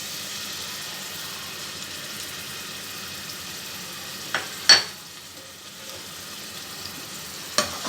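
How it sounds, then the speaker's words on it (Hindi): Ginger and garlic fry in hot oil with a steady, even sizzle, close by, broken by a few sharp clinks of a utensil against the pan, with no talk. "सबसे पहले ऑयल गर्म करके इसमें जाएगा अदरक और लहसुन"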